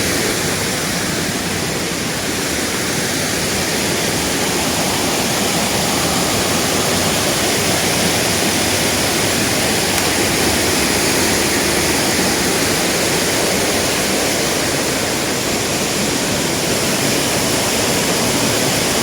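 The loud Huay Kaew waterfall near Chiang Mai, Thailand, about 10 metres high, roars steadily and close by, a constant rushing wash of falling water with no voices.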